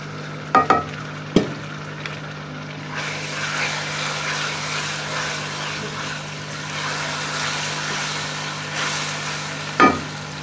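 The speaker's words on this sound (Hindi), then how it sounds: "अब हम इसमें लहसुन अदरक का पेस्ट डाल देंगे।" Garlic-ginger paste added to lightly browned onions frying in a pan while cooking keema matar, giving a steady close sizzle with a few sharp clatters of stirring utensils at the start and end.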